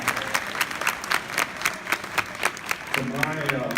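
Applause from the audience at a political party gala, scattered claps rising over a hum of crowd noise, with distinct individual hand strikes standing out and a low murmur entering near the end.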